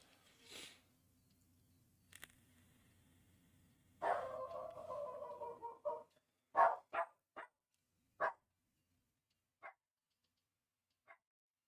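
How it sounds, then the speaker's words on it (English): A dog barking in short, sharp bursts, a few separate barks early, then a quick run of yips and barks spaced out and fading into sparse single barks, close and clear against a quiet room. "I've really got a barking ass dog that barks."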